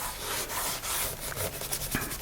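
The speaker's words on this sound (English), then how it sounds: "I'm going to kind of wipe this whole area" Rubbing and wiping across a wet leather notebook cover, close continuous scuffing strokes with a rhythmic back-and-forth texture.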